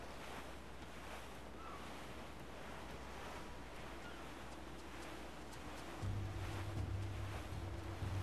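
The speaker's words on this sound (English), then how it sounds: "There's a strong wind now." Strong wind and rolling ocean waves at sea aboard a sailing ship, a continuous gusty roar over surging surf, with a deeper rumble swelling near the end, no voices.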